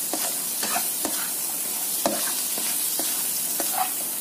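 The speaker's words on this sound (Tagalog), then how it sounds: "Stir-fry nyo lang." Prawns stir-fry in a hot pan with a steady, dense sizzle, while a utensil scrapes and taps the pan in an irregular rhythm, close and with no talk.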